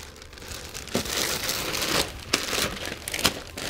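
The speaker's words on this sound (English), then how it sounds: "Place it in the plastic bag." A plastic bag crinkles and rustles steadily as a used waste toner cartridge from an office printer is placed inside it, with several sharper crackles standing out over the continuous close crumpling.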